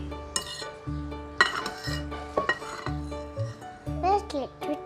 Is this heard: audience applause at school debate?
no